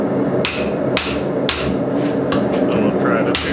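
A hammer strikes an alignment pin used as a drift at a blacksmith forge, landing about five sharp metallic blows at a steady half-second beat, loud and close over a constant low roar from the forge.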